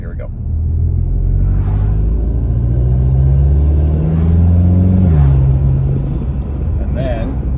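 A Volkswagen GTI MK7 with an AWE Touring catback exhaust pulls away on a road, its engine note a steady, loud low rumble that climbs in pitch through a gear change, continuous for the whole stretch.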